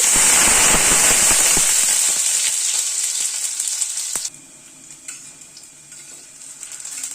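Small boiled potato pieces hit hot oil with a loud, dense crackle and spatter, snapping and popping hard at first, then settling into a quieter sizzle after a few seconds.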